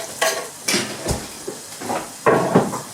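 Chilies and white onions cook in a pan for a prawn curry, with soft sizzling broken by several close scraping stirs and clinks of utensil on pan.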